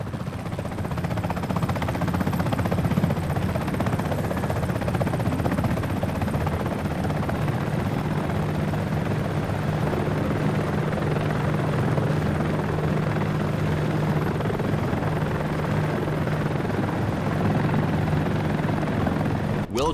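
A Comanche attack helicopter in the Comanche video game flies with a steady, loud rotor and engine drone that holds unbroken for the full twenty seconds.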